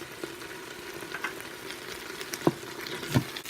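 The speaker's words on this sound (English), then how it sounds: "the vegetables and the potatoes are in and they're sauteing up" Vegetables and potatoes sauté in a pot for kapusta soup, giving a steady soft sizzle with a couple of sharp stirring clacks near the end and no talking.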